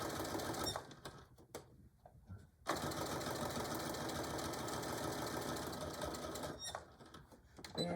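A sewing machine backstitches the boxy corners of a canvas tool bag, its steady mechanical hum running close and loud nearly throughout, with a brief pause and stutter early on before stitching resumes continuously.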